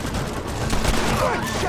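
Gunfire in Red Dead Redemption: rapid, close shots in a dense burst of cracks over a noisy shootout, with voices faintly mixed in.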